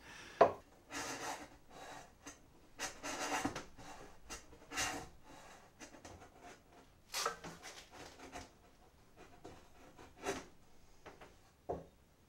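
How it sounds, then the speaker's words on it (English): A hand plane shaves end grain off a freshly cut 2x4, giving quiet, dry rasping strokes in short irregular bursts with brief pauses between passes. "I'm going to try to shave off some of the end grain on that."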